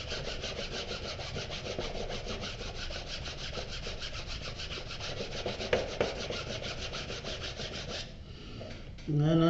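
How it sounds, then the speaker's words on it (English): A rag rubbing a Maker's Leather notebook cover, a close, steady run of rapid back-and-forth friction strokes, ending with a short handling noise. "And then I turn the rag over and I rub it with a clean spot of the rag."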